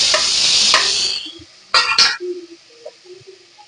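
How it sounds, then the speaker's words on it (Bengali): Crushed ginger and garlic drop into a pan of chicken soup base with a soft scraping stir, followed by two sharp clattering hits and faint frying sizzle, close and fairly loud with no talking. "এবার উপরে দিয়ে দেব একটু আদা আর রসুন থেতো করা।"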